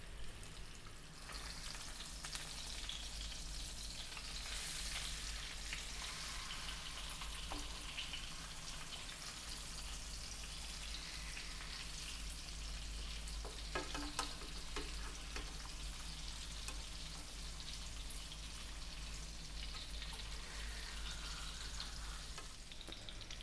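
Salmon steaks pan-fry over medium heat, a steady, close sizzle and crackle of hot oil that continues evenly with no talking.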